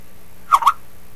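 A short Skype notification chime, two quick bright tones close together, heard alone over faint background hiss.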